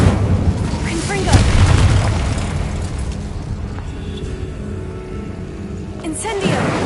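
A Confringo spell explodes with a deep booming blast in the video game Hogwarts Legacy, rumbling loud and close over a steady background roar.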